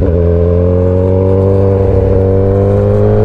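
A motorcycle engine drones steadily and loudly up close while the rider practices cornering and banking. The tone rises slightly and no one speaks.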